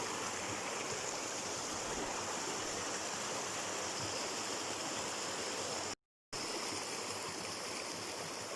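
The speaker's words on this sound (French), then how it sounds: "C'est quand même un sacré flux, non?" Fast-flowing mountain stream on the Motatapu Track rushes in a dense, constant roar close by, with a brief dropout near the end and no voices.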